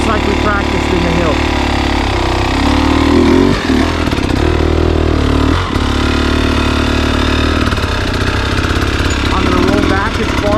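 A trials motorcycle engine idles steadily and then rises into throttle blips as the rider works the throttle and clutch over technical ground. It is loud and close, with a brief dip in engine note partway through.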